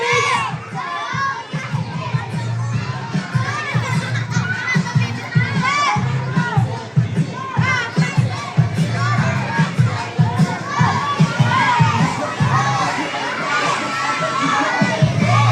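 Crowd of children shouting and cheering at a sports afternoon held in a shopping mall, loud overlapping excited voices rising and falling continuously, with an adult voice briefly audible among them.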